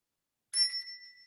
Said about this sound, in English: Oh, there's the bell. There's the bell.